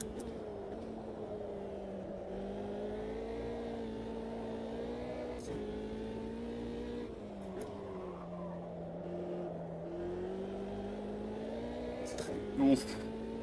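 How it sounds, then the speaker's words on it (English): Car engine in a racing game on the Nordschleife, droning steadily alone with pitch dips and rises as it is shifted down twice and pulled back up. "That's a double downshift here."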